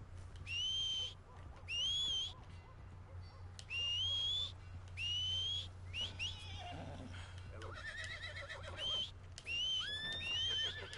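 A horse in a cowboy video game whinnies in several loud, rising calls spaced through the clip, over a steady low hum and faint game ambience, with some snorting and shuffling in the middle.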